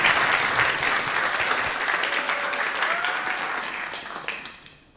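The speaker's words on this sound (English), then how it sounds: "Let's give a round of applause." Church congregation applauding during a Sunday service, a dense, steady wash of many hands clapping that carries on throughout, then thins and fades near the end.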